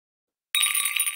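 Bright notification bell sound effect, a single crisp ring after a short silence, close and clear with a brief shimmering decay.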